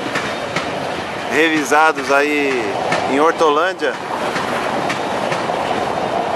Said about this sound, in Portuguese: aqui vemos o trem da MRS com vagões aí GDU